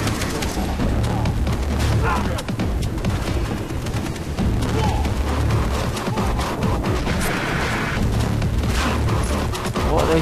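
Sustained enemy gunfire rattles through a building in the Far Cry 3 shooter game, dense and continuous with heavy impacts, while someone talks over the shooting.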